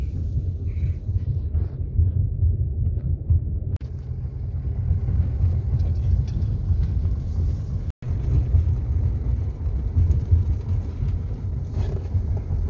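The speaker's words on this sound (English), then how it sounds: "Jim is driving too fast" A car driven fast along a curving mountain road, heard from inside as a steady low engine and road rumble with wind noise, one brief dropout midway.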